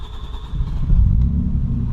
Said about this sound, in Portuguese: O som de escape dele é espetacular